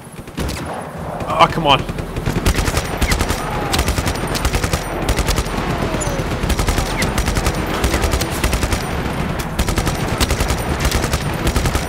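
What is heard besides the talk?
gunfire in video game Just Cause 3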